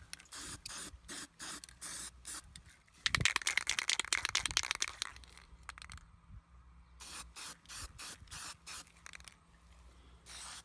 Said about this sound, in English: Now I'm going over the entire surface of the wheel with my wet coat.